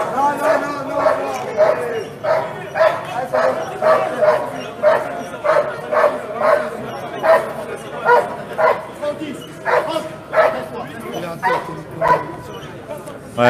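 Malinois dogs barking and whimpering, a long run of regular, evenly spaced yelping barks roughly every second, loud and persistent, with people talking over them.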